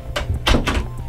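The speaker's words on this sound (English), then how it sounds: "Let me close the door before she get in here." A room door is pushed shut, giving a few close, soft thumps and a latch click packed into about a second, with no talk over it.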